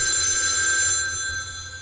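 A telephone rings with a steady, bright electronic trill, loud and close, sustained throughout and fading slightly toward the end, with no voices over it.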